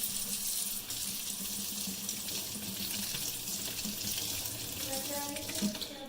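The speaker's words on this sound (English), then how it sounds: "I'm going to rinse this off with cold water." Cold tap water runs steadily over freshly antiqued metal screws in a sink, a continuous hissing splash that stays even and fairly close throughout.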